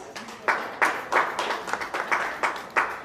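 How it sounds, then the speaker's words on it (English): A small audience at a county 4-H show claps for exhibitors. The individual claps are distinct and fairly close, arriving in an uneven rhythm of sharp bursts that fades and returns across a few seconds. "if we could please give these exhibitors a round of applause."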